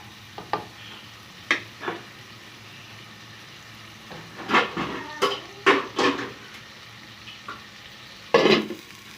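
Country chicken gravy simmers in a pan with a soft background sizzle, broken by intermittent close scraping stirs of a utensil against the metal.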